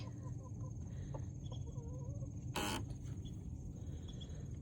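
Chickens in a coop make soft clucks and murmurs over a steady background hum, with a brief burst of rustling partway through.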